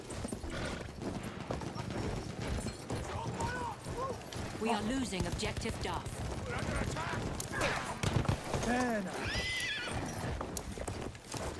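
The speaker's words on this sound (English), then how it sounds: "I hate riding this horse." Horse hooves gallop in a steady clip-clop through a Battlefield 1 match, with occasional neighs and whinnies over busy battlefield noise, while a player talks throughout.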